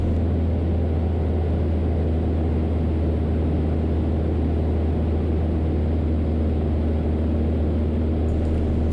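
Cabin of a small propeller airplane on approach with flaps being set, a loud steady engine and propeller drone with a low hum that holds constant throughout, no talking.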